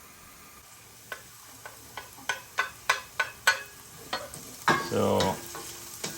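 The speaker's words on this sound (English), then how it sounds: "I stir my garlic around, and I'll cook it for maybe 2-3 minutes, 4 minutes" Sliced garlic sizzles in a frying pan with browned onions while a utensil scrapes and clicks against the pan in a quick series of taps, ending in a louder burst of frying; a single word is spoken.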